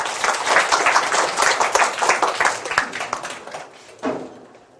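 An audience at a design lecture claps together for several seconds, a dense near burst of applause that thins and fades out, with a brief knock near the end.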